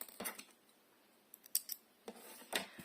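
Scissors snip yarn during crochet work on a small dragon toy, giving a few quick, close, soft cutting clicks spread over a few seconds in a quiet room.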